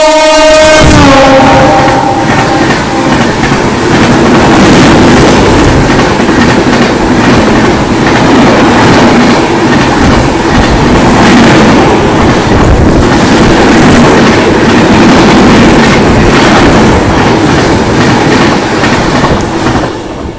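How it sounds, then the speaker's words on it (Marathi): A WAP-7 electric locomotive hauling LHB coaches overtakes on the adjacent track: a horn sounds at the start, then a loud, sustained rumble and rhythmic clickety-clack of wheels roars past very close. "आत्ता आपण बघितलं वॅप 7 लोकोमोटिव्ह आणि LHB"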